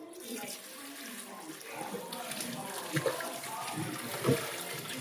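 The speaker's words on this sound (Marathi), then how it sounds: "बघा इथे मी हे सगळं आता धुवून घेते आवळा आणि त्यांना खायला देते" Indian gooseberries (amla) being washed in water, a continuous splashing and trickling wash with a few louder sloshes, fairly close, amid a noisy background.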